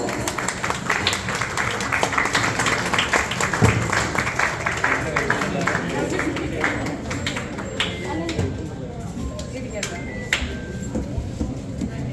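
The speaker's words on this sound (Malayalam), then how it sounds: "നിങ്ങൾ കൈയടിച്ചോളൂ. Please put your hands together." Guests clap steadily at a Malayalam engagement ceremony for actress Haritha Nair, a dense burst of applause running the whole stretch beneath voices.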